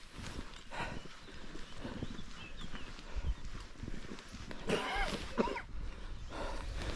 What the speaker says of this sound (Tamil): அங்கே ஒரு குதிரை தெரியுது.